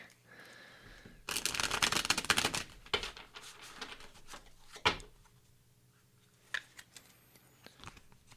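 Tarot cards being shuffled and drawn close by: a dense burst of riffling and shuffling, then scattered soft flicks and taps as cards are handled in a quiet room.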